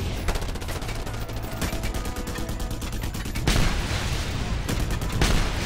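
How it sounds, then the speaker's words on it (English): Shotguns firing in a video game, rapid repeated blasts in quick succession with heavier, louder bursts in the second half, close and dominant throughout. "Whoa, shotguns."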